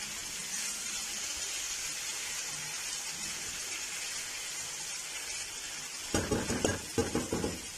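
Diced tomato, onion and potato fry in a pan with a soft continuous sizzle, then a spoon scrapes and stirs in a quick burst of clinking scrapes near the end.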